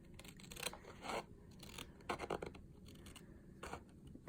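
Scissors snipping and trimming a folded paper book page at close range, a series of soft irregular cuts with faint scraping between them, no talking.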